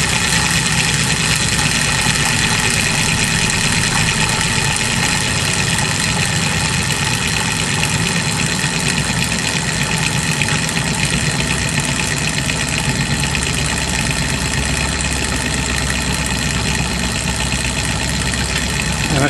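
A test rig motor on a Smiths governor speedometer testing device runs at about 1,000 revs. It gives a constant, loud mechanical drone with a rough, knocking vibration and no variation over the whole stretch.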